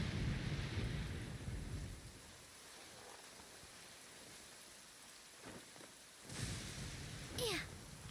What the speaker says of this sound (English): since we're already caught in the rain, we might as well enjoy it.